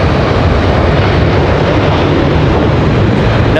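Delta Boeing 737 jet airliner at Raleigh-Durham International Airport, a loud, steady broadband engine roar held close and constant throughout, with no voices.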